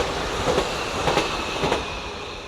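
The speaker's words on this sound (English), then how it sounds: "There's the train." A train rolls past on railway tracks with a steady loud rumble and a few rhythmic clicks of wheels over rail joints, heard from nearby outdoors.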